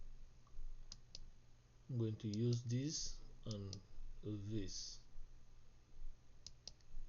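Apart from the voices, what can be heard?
computer keyboard key press and mouse clicks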